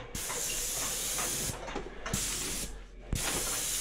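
An airless paint sprayer applies cabinet coat in long, even passes, its loud close hiss running steadily with brief breaks between passes. No talking.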